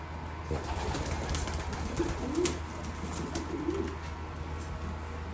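Pigeons in a loft give soft low cooing phrases against steady background hum, the coos rising now and then over a constant room noise with no talk.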